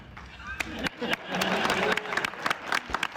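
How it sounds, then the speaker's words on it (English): An audience claps and cheers in a burst of applause, with voices and crowd noise mixed through it. "Oh, clapping."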